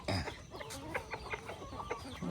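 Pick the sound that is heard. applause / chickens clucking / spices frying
chickens clucking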